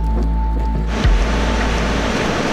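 Big Atlantic ocean waves roll and crash with a loud, continuous roar, and a heavier surge breaks about a second in over steady low rumbling water noise.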